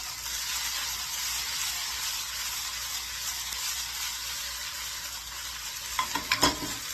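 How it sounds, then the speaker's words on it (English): Steady, dense sizzling of spätzle noodles frying in a pan on medium-high heat, continuous and fairly loud, with a few clinks of a utensil stirring near the end. "You can hear that sizzle."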